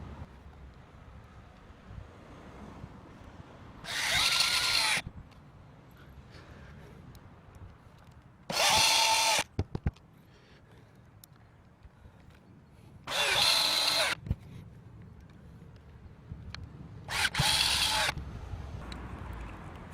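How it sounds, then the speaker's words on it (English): A power drill drives self-drilling screws through the metal skin of a Mercedes Sprinter van roof into wood beneath. There are four separate whirring bursts, each a second or so long, with quiet wind noise in the gaps between them. "These will drive themselves right through the skin of the roof and into the wood."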